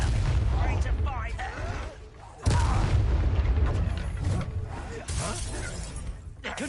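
Explosive Confringo blasting spells in Hogwarts Legacy combat: repeated sharp booms and shattering crashes with a sudden loud burst partway through, mixed with game voices and effects.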